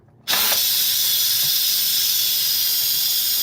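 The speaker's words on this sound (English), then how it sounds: "that will release the vent and then the steam will come out." Steam bursting from a released pressure cooker vent during holiday cooking, a sudden loud hiss that starts abruptly and then holds steady and strong, close by with no talking.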